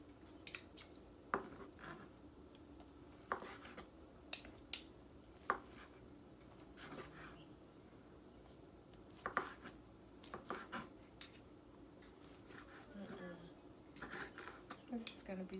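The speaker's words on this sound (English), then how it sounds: "You don't want to slice them really thin because you want to have meatball and some of the Italian sausage together." A knife slices through meatball and Italian sausage sub sandwiches with quick, faint crisp cuts and light clicks against a board, scattered irregularly across quiet kitchen background.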